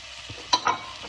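Peppers, ginger, carrots, red pepper and onion sweat in a pan with a low, gentle sizzle, broken by a couple of brief utensil clinks and stirring sounds close by.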